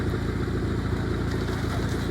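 A Honda car's exhaust, on an engine suspected of a small head gasket leak, gives a steady low idling rumble with a faint rhythmic clatter, close by and heard alone.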